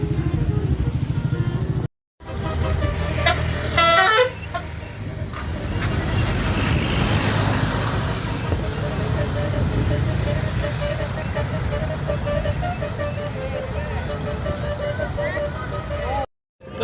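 Indonesian telolet basuri bus horn, heard among buses near GBLA and the Al-Jabar mosque: a brief wavering musical horn burst rises over loud, continuous engine and traffic rumble with crowd noise throughout.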